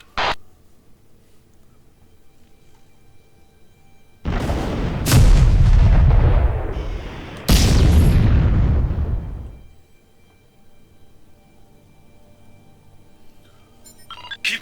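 Artillery strike explosions in the space combat game Freespace: Between the Ashes: two loud, deep booming blasts in close succession, each rolling and rumbling out for a couple of seconds, with short clicks before and after.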